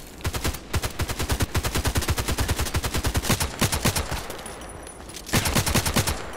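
Rapid automatic gunfire from the shooter game Contract Wars rattles in long continuous bursts, briefly pausing before another close, punchy burst near the end.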